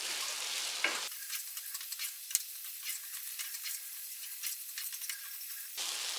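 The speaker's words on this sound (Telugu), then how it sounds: "ఈ మసాలాలు యాడ్ చేసిన తర్వాత ఈ ప్రాన్స్ మొత్తం ఈ గ్రేవీలోకి బాగా మిక్స్ చేసుకోవాలి" Prawns being stirred into a masala gravy in a pan, a soft continuous sizzle broken by small scraping clicks of a utensil. There is a brief gap in the middle where the low end drops away.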